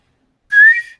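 A single sharp whistle imitated by a player's voice, rising slightly in pitch, loud and close, lasting about half a second alone in silence.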